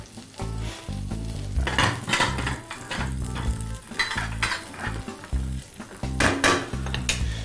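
Chicken breast frying in a pan, a steady close sizzle with occasional scraping and clinks of a utensil against the pan, continuous and fairly loud with no talking.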